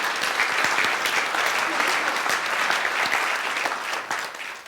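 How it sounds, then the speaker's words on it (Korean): Sustained audience applause at a talk on health and energy, dense and steady throughout, with a crowd clapping together at a fairly loud, even level. "Let's have a round of applause."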